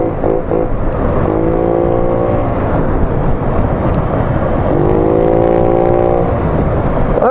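A Honda Ruckus 49cc scooter engine runs at wide open throttle, a loud, close, continuous drone whose pitch climbs twice as it pulls, with no voices.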